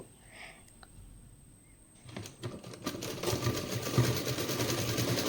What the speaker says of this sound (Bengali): সেই দড়িটাকে এর মাঝ বরাবর বসিয়ে ধার বরাবর সেলাই করে নেব।